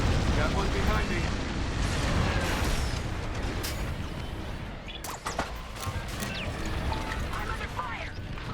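Starfighter weapons fire and explosions from the video game Star Wars Squadrons crackle and boom in a dense, loud space-battle mix, with bursts of blaster shots and impacts throughout.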